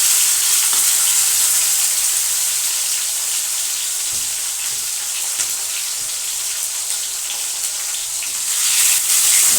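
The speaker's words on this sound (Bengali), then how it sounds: "এরপর এটা ভেজে নেব।" Tomato, green chillies and cumin frying steadily in a pan, a continuous close sizzle with a bright hiss that swells slightly toward the end, no talk.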